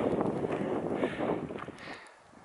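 Steady broadband wind noise rushes across the microphone, gusting and buffeting unevenly before easing slightly near the end.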